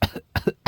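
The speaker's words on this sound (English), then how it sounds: "when they cough, you could just hear it" Three short, harsh coughs in quick succession, close and loud.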